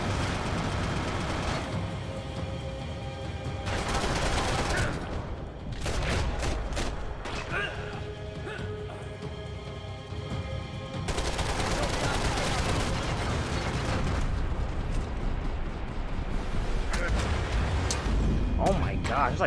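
Rapid automatic gunfire rattles through a Max Payne 3 firefight in dense, loud bursts, broken by a short lull before the shooting resumes, with a voice talking over it.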